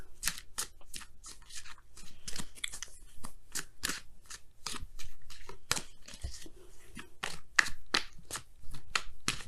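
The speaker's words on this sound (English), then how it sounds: "let's go ahead and pull your Wisdom of the Oracle card." Wisdom of the Oracle cards are shuffled and pulled in a tarot reading, giving a run of crisp, rapid papery flicks and riffles close up, steady and rhythmic, with no talking.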